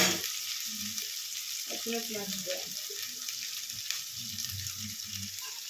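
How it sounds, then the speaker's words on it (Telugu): Ginger garlic paste frying in a pan, a steady close sizzle with faint scraping and some background voices or clatter mixed in. "అల్లం వెల్లుల్లి పేస్ట్, ఇది పచ్చి వాసన పోయేంత వరకు ఫ్రై చేసుకోవాలి"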